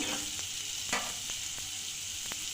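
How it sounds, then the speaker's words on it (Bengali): Chopped carrot and capsicum stir-fry in melted butter in a pan, a constant close sizzle broken by a few light scrapes and stirring knocks, with no voices. "বাটারটা গলে গেছে, এর মধ্যে আগে থেকে কুচিয়ে রাখা গাজর, ক্যাপসিকাম,"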